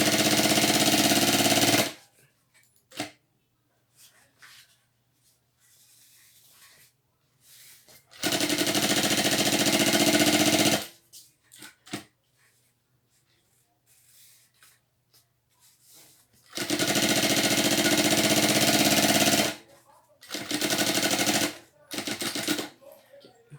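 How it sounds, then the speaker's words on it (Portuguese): Sewing machine topstitching fabric for a stroller backpack, with a backstitch to lock the seam, runs in three long loud bursts of rapid stitching separated by quiet pauses with faint handling noises. "Então, vamos fazendo o pesponto ou rebatendo-no."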